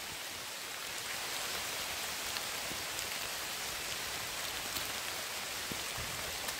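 Rain pours steadily over countryside orchard land in Konkan, a dense, unbroken patter with soft individual drop hits, close and even throughout, with no voices.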